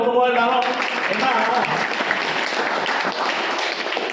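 An audience applauds, a dense wash of clapping that holds steady throughout, with a voice speaking over the start.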